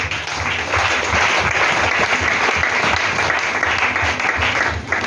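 A church congregation breaks into loud, sustained applause during a service, dense clapping from a large crowd that continues steadily for several seconds before easing off at the end.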